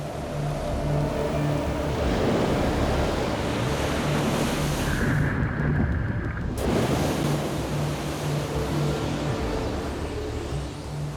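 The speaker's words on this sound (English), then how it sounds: "On the Irish coast, as so often in this part of the Atlantic, a storm is raging." A storm on the Irish coast of the Atlantic drives huge waves and strong wind, making a loud, continuous roar of surf with wind buffeting the microphone throughout.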